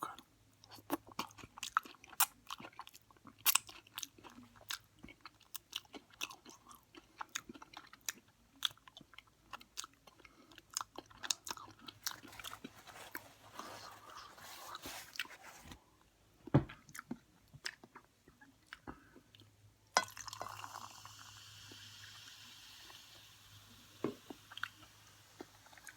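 Close, intimate chewing of chicken tacos with Mexican crema, repeated soft crunches and wet squishy bites in irregular rhythm over near silence.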